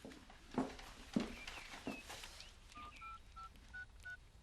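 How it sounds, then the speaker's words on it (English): A telephone keypad is dialled to call social services: a run of about six short, evenly spaced electronic beeps at moderate volume, following a few soft thumps and rustles. "I'm phoning the social services."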